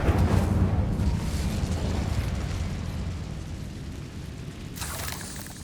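Incendio fire spell from Hogwarts Legacy erupts as a loud roaring blast that slowly decays over several seconds, followed by a brief second burst near the end, with no talking.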